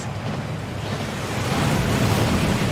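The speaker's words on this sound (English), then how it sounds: "That waterfall washes away all enchantments." A waterfall at the Gringotts vaults in a video game rushes loudly and steadily, a dense, close roar of falling water that fills the whole moment with no voices.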